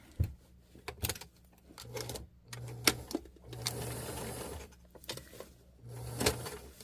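A sewing machine stitching a zipper on a winter puffer coat with leather piping, short stop-start runs of stitching mixed with sharp clunks, clicks and rustling fabric, fairly close.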